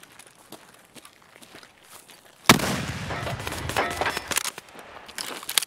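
Gunfire in the video game Escape from Tarkov: after quiet shuffling footsteps, a loud shot bursts in sharply and is followed by a noisy run of further shots and rattling impacts, fairly close.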